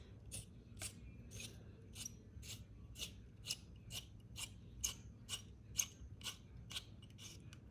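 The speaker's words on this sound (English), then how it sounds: "what I'm using is a 1 32 inch drill bit" Tiny 1/32 inch drill bit boring window holes in a plastic 1/1000 scale NX-class refit model kit: a quiet, regular series of short scratchy grinding strokes, roughly one or two per second, close up with a faint hum underneath.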